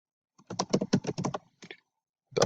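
Rapid keystrokes on a computer keyboard as an email address is typed, in a close, quiet burst of clicks lasting about a second, then a brief pause and a few more taps, with a final cluster at the end.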